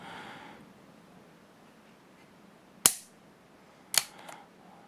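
An unloaded .500 Magnum revolver dry fired, two sharp, close metallic clicks a second apart over a quiet room hiss, the second followed by a faint extra click, no talk.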